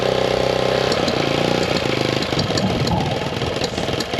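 A 1964 Honda CT200 Trail 90 motorcycle engine runs after a cold start in Montana winter, a steady loud close idle with a pitch shift near the start, then continuing to chug with uneven putter and no voices.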